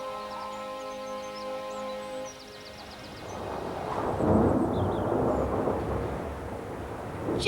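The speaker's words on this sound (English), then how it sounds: "Just listen to that wind. There's a big storm on the way." Wind of an approaching storm sweeps through an animated countryside scene, a broad, rising roar that swells midway and stays loud, following a stretch of soft music with faint bird chirps above.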